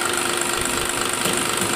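A VE diesel injection pump runs on a calibration bench at a steady speed, producing a continuous mechanical drone with a fine rapid knocking pulse and a high whine, loud and unchanging throughout.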